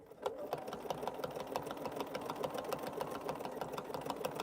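A sewing machine fitted with a size 11 needle stitches fabric in a fast, steady mechanical rhythm of even ticks, close and continuous throughout with no voices.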